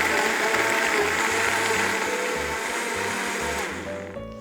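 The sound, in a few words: blender blending black grape juice drink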